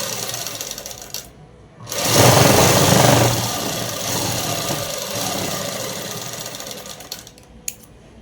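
Sewing machine stitching a pants pocket, its motor whirring in a steady loud run after a brief start, then fading to a quieter hum with a few clicks near the end.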